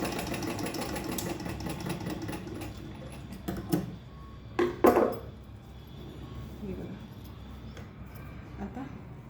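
A sewing machine stitches a handmade hand purse, giving a steady low whirring hum with a few louder knocks in the middle, while someone talks over it.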